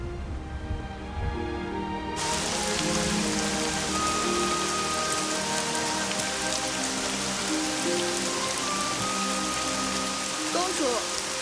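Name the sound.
rain falling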